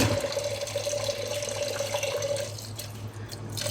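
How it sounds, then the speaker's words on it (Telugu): Toor dal and chana dal are washed in water, a close, soft wash of running and sloshing liquid that fades a little toward the end. "కందిపేడలు కడిగేసుకున్నా ఇందులోకే శనగబేడలు కూడా వేసుకుంటున్నా"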